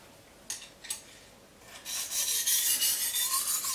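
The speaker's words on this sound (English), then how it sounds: "pull it down our plastic or piece of wood to help remove some of that grit off the blade" A steak knife blade is drawn across plastic or wood to strip grit from the edge, giving two short scraping strokes followed by a longer, louder continuous rasping rub, close and without talk.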